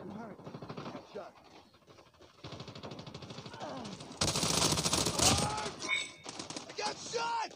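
Rapid gunfire bursts sound in the mobile game Call of Duty Mobile, mixed with game sound effects and voiced callouts, growing louder and denser in the second half.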